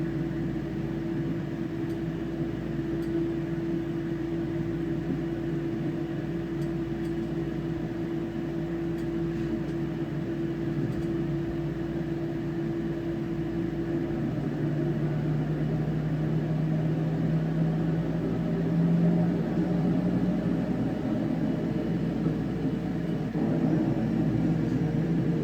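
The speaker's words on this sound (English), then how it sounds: "Next should be the takeoff." Steady cabin drone of a passenger airliner during takeoff, a broad constant engine roar with a low tone that rises and shifts partway through, heard from inside the cabin with no talking.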